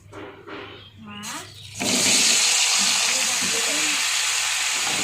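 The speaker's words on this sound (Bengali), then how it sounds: "এই যে তেলটা আছে, এতে আমি এঁচোড়টা ভেজে নেব" Raw jackfruit dropped into hot oil gives a sudden loud, steady hiss and sizzle that keeps going, with someone talking over the first moments.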